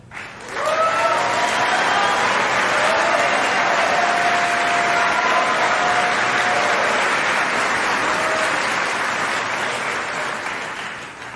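An audience at a Hall of Fame induction ceremony breaks into sustained applause, a dense wash of clapping that swells quickly and holds steady for about ten seconds before tapering, with faint voices buried in it.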